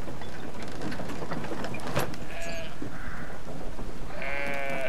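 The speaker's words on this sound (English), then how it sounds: "Maybe I need to grab one of these sheep?" Sheep bleat in the video game Brothers: A Tale of Two Sons, a few short wavering calls near the end over a dense, steady game soundscape with no talk.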